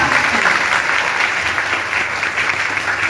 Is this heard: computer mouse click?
no